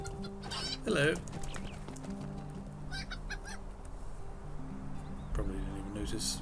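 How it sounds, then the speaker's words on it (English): Chicken clucking in the Lord of the Rings Online game, in the Lone Lands, a couple of short bursts of clucks near one second and again past five seconds over steady game music. "Probably didn't even notice a chicken running on the road."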